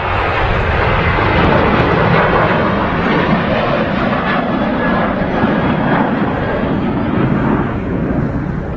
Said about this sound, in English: The Ryanair flight that's now rolling is off to Rhodes.